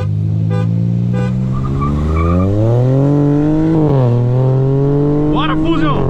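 A stage 3 Hyundai HB20 TGDI and a Ford Fusion 2.0 turbo accelerate hard in a drag race, with a loud rising engine drone that climbs through gear shifts while excited voices talk over it.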